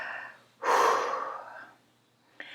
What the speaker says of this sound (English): take a few calming breaths before you start.